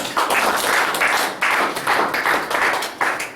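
Applause from a church congregation, with rhythmic clapping in steady bursts that swell and repeat, fairly loud and close, with no talking.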